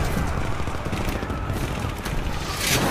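Dense gunfire crackles through a loud action film scene, a sustained burst of rapid shots with booming low end under a steady wash of noise.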